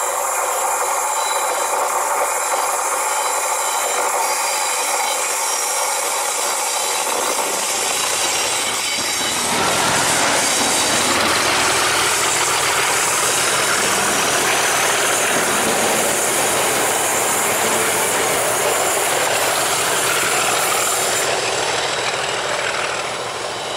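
A class 37 locomotive hauling a train past Barassie, a loud continuous roar of engine and rolling wheels that builds sharply midway and stays strong, close by with no talking.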